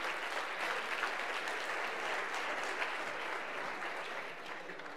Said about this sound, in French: Montez sur scène, s'il vous plaît, sur des applaudissements.